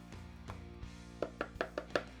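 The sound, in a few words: whisking liquid smoke marinade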